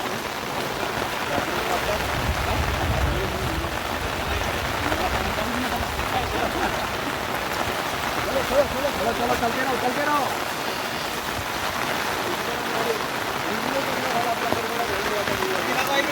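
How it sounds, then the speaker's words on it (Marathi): Steady rain patters on a muddy village road, a continuous close hiss of falling water with brief talk over it. "हे बघा पाऊस आणि हा पूर्ण चिखल"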